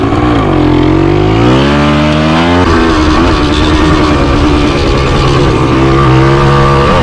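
A 1978 Yamaha DT175 motorcycle engine idles close by, a loud, steady buzzing drone that dips slightly in pitch partway through and then holds an even, continuous note with no talking.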